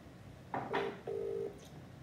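A phone dialing a call: a quick series of electronic keypad tones, a couple of short beeps followed by a longer steady tone, clear and close in a quiet room.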